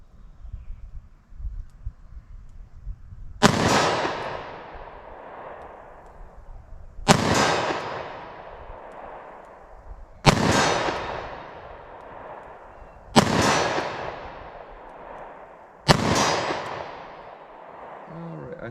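Five loud .32 H&R Magnum pistol shots fired with copper hollow-point rounds at a ballistic gel target outdoors, each a sharp crack with a long decaying echo, spaced about three seconds apart.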